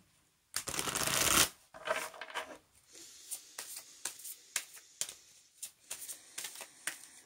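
Oracle cards are shuffled up close: one long riffle burst, then a string of sharp, quick card slaps and flicks in an uneven rhythm, with no talking.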